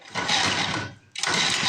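A cheap, worn mini bike's small engine fires up close by in two loud, raspy bursts, broken by a brief drop in the middle, with no talk over it.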